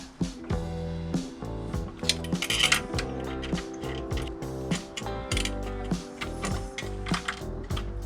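A hand ratchet clicks rapidly and repeatedly at close range while coil bolts are tightened on a Nissan Frontier 4.0 V6, with short bursts of metallic ratcheting and small clinks of tools.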